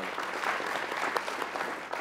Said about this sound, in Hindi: तालियां इस एटीट्यूड के लिए